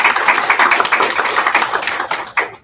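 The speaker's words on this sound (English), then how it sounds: "So those 7 students also deserve a big round of applause." An audience at a school board meeting breaks into a brief, dense round of applause, a close burst of many hands clapping that thins out toward the end.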